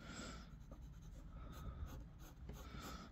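A Lamy fountain pen with a fine nib writes on paper, a faint, soft, continuous scratch close by with light strokes and pauses, and a little table movement beneath it.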